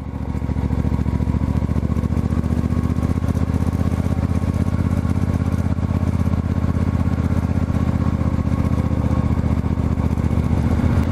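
A 1972 Moto Guzzi Eldorado motorcycle runs steadily along a gravel backroad in Eastern Ontario, its engine a loud, continuous low throb with wind rush, unbroken and close throughout.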